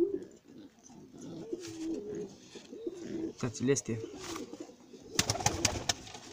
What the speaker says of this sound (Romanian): aici din doi porumbei voiajori standard